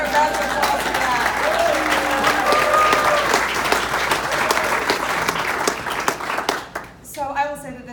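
Gala audience applauding a couple at a ten-year celebration gala, a steady dense clapping with some voices mixed in that tapers off near the end as a speaker begins.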